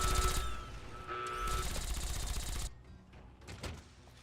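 Gunfire in Fallout: New Vegas: rapid bursts of automatic shots rattle loudly for over two seconds, then drop to a few scattered, fainter reports.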